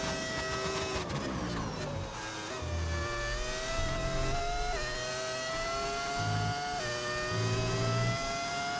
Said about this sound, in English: V10 sound? Yeah, it's a mod you can get on PC that changes the engine.